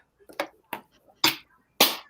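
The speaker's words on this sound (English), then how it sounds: "I heard the clap." Four short, sharp hand claps spaced unevenly over two seconds, crisp and close, with the last two loudest.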